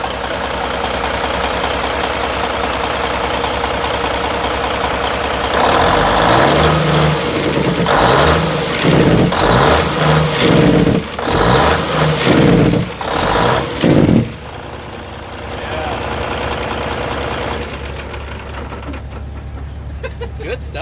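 A 1997 Kenworth W900L truck's Cummins N14 diesel idles with a steady mid-pitched rumble, breaks into a run of loud throttle blips in the middle, then settles back to a loping idle.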